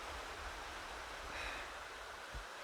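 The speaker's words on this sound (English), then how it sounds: "views and the sound of the river" A river flows steadily beside a campsite park at Hartford Bridge in Devon, giving a constant soft rushing wash with no breaks, close and even throughout.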